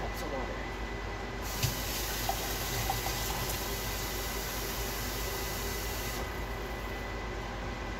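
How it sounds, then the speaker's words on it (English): Water pours steadily into a pot of ground meat while making chili, a soft continuous splashing rush that runs throughout. "And add another 2 cups of water."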